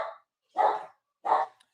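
Dogs in a house react to someone arriving home through the garage, giving three distinct, loud barks spaced about half a second apart, close by and alone.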